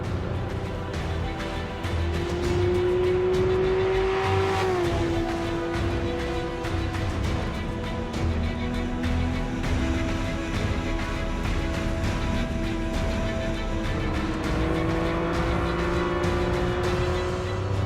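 Ferrari F50 engine pulling hard while driving, a loud continuous roar with rising and falling pitch as it climbs through the revs and shifts, sustained close-up throughout.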